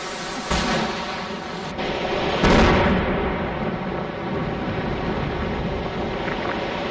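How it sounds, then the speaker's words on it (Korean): Heavy road-widening work on Sichuan-Tibet Route 318, with machinery cutting down the surrounding cliffs. A loud, continuous rumble and clatter fills the whole stretch, with a sharper burst of impact noise partway through. "길을 확장하기 위해 주변의 절벽을 깎아내리는 공사를 하고 있다."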